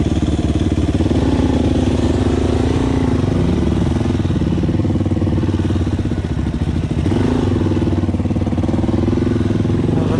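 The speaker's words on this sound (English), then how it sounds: "Alright, having a crack on the DRZ and Wayne's having a crack on my one." A 2019 Suzuki DRZ400 motorcycle ridden at steady speed, its single-cylinder engine droning loud and close throughout, with slight rises and falls in revs as the throttle shifts.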